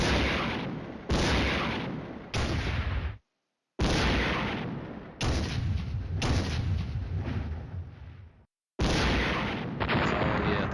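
Artillery strikes in the wargame Flashpoint Campaigns: Red Storm, a series of loud booming blasts and rumbling impacts in long heavy bursts separated by two short silences.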